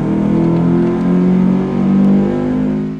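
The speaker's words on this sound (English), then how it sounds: "Our super simple pod filter install is done and it sounds way better." A car engine fitted with a pod air filter revs up and down close by, a loud throaty drone rising and falling in pitch several times.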